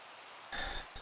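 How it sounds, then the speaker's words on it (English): Rain falls in a rail-network building video game as a soft, steady hiss that swells louder partway through, with no speech. "So, it's raining again."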